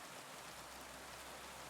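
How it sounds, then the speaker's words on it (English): Steady, hissing rainfall in Kingdom Come: Deliverance II, a dense even wash of drops with no other sounds, fairly faint and continuous throughout. "Sounds moist. It is raining."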